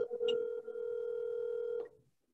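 Telephone ringback tone heard while calling someone during an emergency board of commissioners meeting: one steady electronic ring lasting about a second and a half, clear and alone, then silence.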